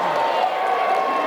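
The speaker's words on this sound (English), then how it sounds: "Boy, the crowd really got excited about that one." Crowd noise at a high school wrestling match, a steady broad roar of cheering voices in a gym that holds at a constant level throughout without pauses.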